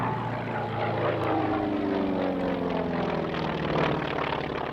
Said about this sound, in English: I'm standing in front of the Wildcat, the FM2 Wildcat.